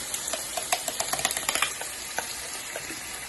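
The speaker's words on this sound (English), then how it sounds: "Go ahead and stir that." A pot sizzling steadily on the stove in Ghana while a utensil stirs it, giving quick close clicks and scrapes against a loud frying hiss, with no voices.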